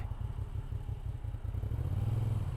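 A Moto Guzzi V7 Sport motorcycle engine runs at idle nearby, a low steady throbbing pulse that grows a little louder and fuller toward the end, with no talking.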